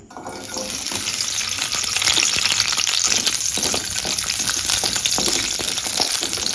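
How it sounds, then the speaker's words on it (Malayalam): Garlic hitting hot oil in a pan for infused chicken, a steady loud sizzle and hiss that swells slightly and holds without pause, close by. "നമ്മൾ ആദ്യം കുറച്ച് ഓയിൽ ഒഴിച്ച് കൊടുക്കുക കേട്ടോ. അതിലേക്ക് കുറച്ച് വെളുത്തുള്ളി"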